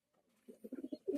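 A pigeon in a loft gives a short, soft coo, a few quick throaty pulses rising to a fuller note at the end, heard close and alone.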